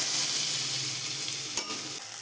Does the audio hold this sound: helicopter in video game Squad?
no